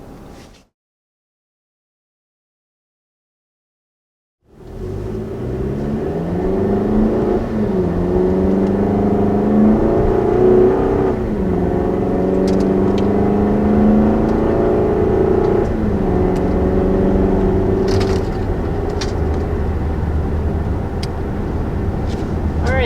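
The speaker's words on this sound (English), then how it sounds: "So now let's go ahead and take it out on the road and see how it performs there." A 2020 Toyota RAV4 TRD Off-Road pulling out onto the road after a brief silence, its engine rising through gears with audible shifts and steady road and tire noise, loud and close from inside the cabin.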